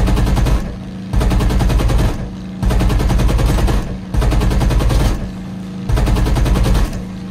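P-47 Thunderbolt aircraft machine guns in War Thunder firing in repeated long bursts of about a second each, separated by short pauses, loud and dense over a constant engine drone.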